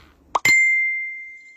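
A phone notification chime on a mobile, a brief thump followed by a single clear bright tone that rings out and slowly fades over about a second, close and alone.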